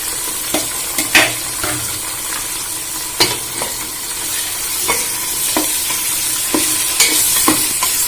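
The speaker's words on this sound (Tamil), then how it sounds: "வெங்காயம் நல்லா கொஞ்சம் வதங்கிட்டு நம்ம தக்காளி சேர்த்துக்கலாம்." Onions and tomato sauté in oil for a Nellai-style mutton dum biryani, giving a steady close sizzle broken by repeated scraping, clicking stirs throughout.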